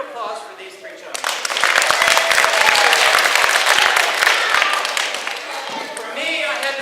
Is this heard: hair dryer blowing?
no